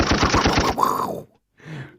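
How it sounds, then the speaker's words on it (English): A gunshot sound effect: a rapid run of sharp shots in quick succession, like automatic fire, followed by a brief pause and a fainter tail. "Where's the gunshots for that?"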